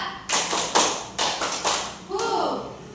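Classroom children clapping a rhythmic spirit clap in unison, several sharp group claps in a steady pattern, ending with a short chanted group shout.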